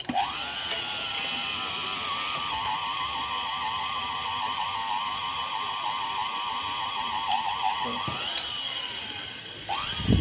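A drill boring a deep hole into hard steel, a long loud continuous whine with a wavering pitch that cuts out briefly near the end before restarting.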